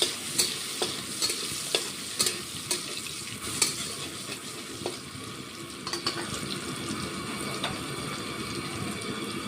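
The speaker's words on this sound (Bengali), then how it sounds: "এই যে পেঁয়াজ ফোড়ন দিলাম" Onions hit hot oil for tempering and sizzle in a steady, dense hiss, with sharp stirring clicks scattered throughout. There is no talk.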